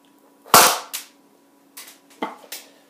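A homemade Joe gun fires a BB with one loud, sharp crack, followed by a few quieter clicks and pops from handling. The sounds are close and heard alone against a faint hum.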